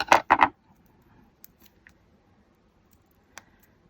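Scissors cutting a piece of foam backing down to size for a ribbon tree decoration: two or three quick, close snips at the start, then near silence with a few faint clicks.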